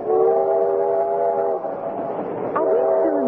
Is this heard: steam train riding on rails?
yes